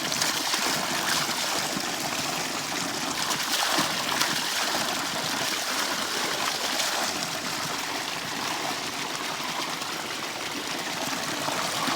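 Borewell water gushes from a 2-inch pipe on a tomato farm, a loud, steady rushing splash that runs unbroken throughout.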